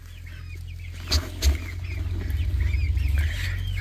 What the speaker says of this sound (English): Baby chickens moving outside.